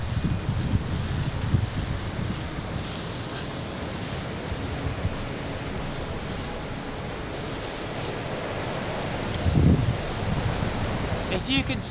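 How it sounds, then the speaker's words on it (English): Wind gusts roar steadily past a winter debris shelter in North America's mid-winter woods, a broad rushing blow that swells into a louder gust near the end. "keeping that wind off me definitely makes it feel warmer"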